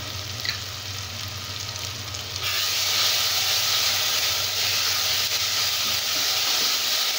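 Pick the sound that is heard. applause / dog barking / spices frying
spices frying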